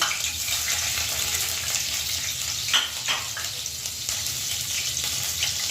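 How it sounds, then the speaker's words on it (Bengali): Chopped green chillies sizzle loudly in plenty of hot white oil in a kadai, a dense, steady crackle with a few sharper bursts and spoon scrapes partway through. "আমি প্রথমেই কড়াতে দিচ্ছি অনেকটা পরিমাণে সাদা তেল, ওই 7-8 চামচের মতো। এরপর এতে আমি লঙ্কা কুচো দিয়ে দিলাম"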